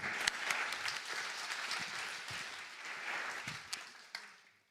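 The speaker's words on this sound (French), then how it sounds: "Vous pouvez l'applaudir." Audience applause at an awards ceremony for a women's cybersecurity trophy, a dense crowd of hands clapping steadily for several seconds before tapering off, fairly soft and distant in a large room.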